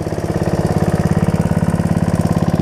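A Snapper rear-engine riding mower idles close by, its engine putting out a steady, rapid low throb with even pulses and no talk over it.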